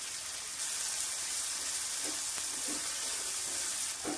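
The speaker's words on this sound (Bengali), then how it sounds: "টমেটোটাও 2 মিনিট ভেজে নিব।" Chopped tomato frying in a pan for tomato paratha, giving a steady close hiss of sizzling oil with a few soft stirring scrapes, no voices.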